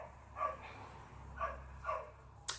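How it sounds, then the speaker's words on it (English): Several dogs bark in the background of a home, a few sharp distant bursts spaced about a second apart, with no talk over them. "Dogs are going nuts"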